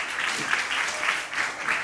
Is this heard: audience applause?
yes